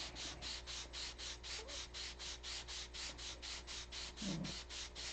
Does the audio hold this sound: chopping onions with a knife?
no